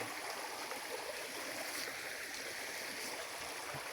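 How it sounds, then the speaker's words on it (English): A river flowing in the countryside near Bajouca, Portugal, heard as a steady, faint, even rushing of water with no other sounds. "Beautiful river."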